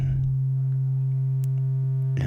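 A pure, steady low sine-wave tone from a T-Zed oscillator synth module hums continuously and loudly on its own, with no talking over it.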